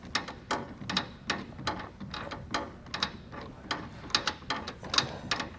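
A ratchet tightens the bolt on a Yakima BedRock HD truck bed rack foot on a 2022 Chevrolet. It makes fast, steady rows of close-up metallic clicks, uninterrupted and without speech.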